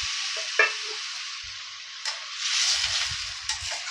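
Water splashes into a hot pan of sooji upma vegetables with potato and carrot, setting off a continuous near hiss and sizzle, with a few utensil taps and soft stirring knocks throughout.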